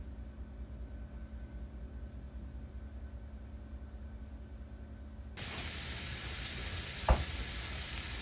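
Beans frying in a pan during baked bean meal prep: a low hum gives way to a loud steady sizzle about two-thirds of the way in, with a brief clank as they are stirred.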